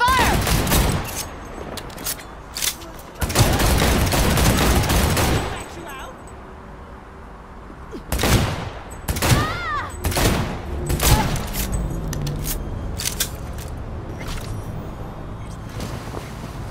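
Bursts of gunfire from the video game Cyberpunk 2077 crack out in loud volleys, a long burst early on and several sharp shots later, with game noise and voices between them.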